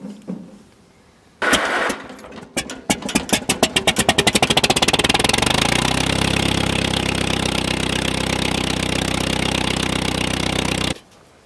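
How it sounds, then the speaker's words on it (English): A Farmall M tractor engine cranks, fires with a rapid run of loud, accelerating pops, then settles into a steady, rough, close-up running roar that cuts off abruptly at the end. "I should start up the tractor and see how that works."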